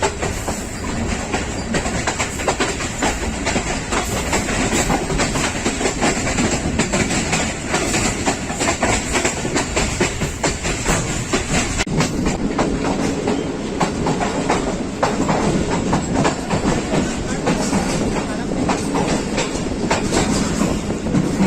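The 9 Up Allama Iqbal Express of Pakistan Railways rolls slowly past Kala Khatai on the Lahore–Sialkot line near the border, with loud, steady rumbling and continuous rhythmic clickety-clack of the wheels close by.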